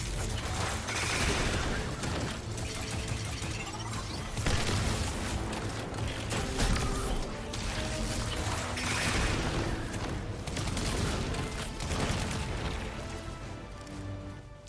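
Rapid barrages of rockets and missiles explode continuously in a shooter video game played with an Arc Titan build, dense booming blasts and crackling impacts layered over each other for the whole stretch, with no pause.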